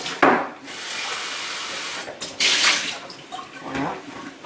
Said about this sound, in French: je vais changer l'eau complètement